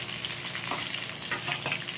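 Onions frying in a pan with mustard seeds, lentils and chilli, a steady close crackle and hiss broken by the scrape of a spoon stirring.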